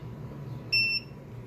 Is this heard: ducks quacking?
no